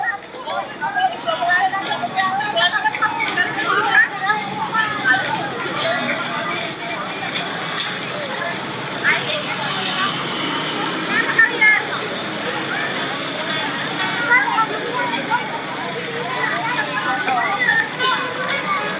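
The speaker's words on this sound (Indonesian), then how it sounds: "ramai sekali ya para pengunjung malam ini" Busy night street near the Kemenko building crowded with visitors, a dense steady hubbub of many voices, children's shouts and bustle filling the whole stretch, with a nearby person talking over it.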